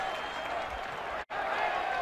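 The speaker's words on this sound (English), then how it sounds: "the crowd almost sort of baying for a late tackle there" Large stadium crowd at a 1986 rugby Test between South Africa and the New Zealand Cavaliers, a steady loud roar of voices that briefly cuts out before surging back at full level.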